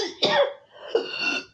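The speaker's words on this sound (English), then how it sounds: "excuse the cough" A person coughs twice, close and alone, each a short harsh burst with a throat-clearing quality, separated by a brief pause.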